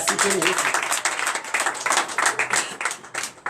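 Congregation clapping in acclamation to Jesus at a night deliverance and prophecy service, steady rhythmic applause from many hands with voices mixed underneath.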